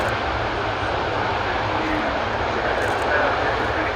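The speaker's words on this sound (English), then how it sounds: "Providing reverse thrust, bringing the aircraft on the whole" Large military transport aircraft landing with reverse thrust at the RIAT airshow, a loud sustained roar throughout with a voice speaking over it.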